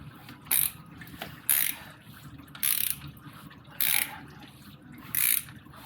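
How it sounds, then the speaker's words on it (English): Five evenly spaced clicking bursts from a digital torque wrench ratcheting on a 996.2 Porsche 911 Targa during an oil change, close and crisp, each a short rattle of pawl clicks over quiet background. "digital torque wrench on here, which is obviously backwards"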